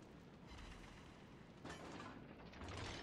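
Naval gunfire from high-explosive shells in World of Warships Legends, a continuous low rumbling barrage of booms that swells louder near the end, with no talking.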